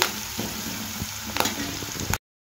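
Turmeric fried in a pan for a raw banana stir-fry gives a steady, close sizzle with a few soft clinks of stirring, running without pause until it cuts off abruptly.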